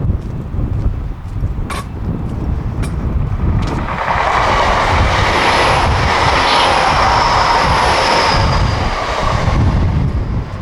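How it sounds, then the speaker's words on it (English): A GWR train rumbles past nearby near Penzance, a steady broadband roar building after a few seconds with sharp clanks early on, continuing loudly to the end. "Another train heading north."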